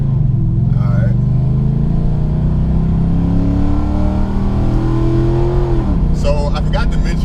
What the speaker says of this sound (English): this thing has X-pipe and magnaflow exhaust too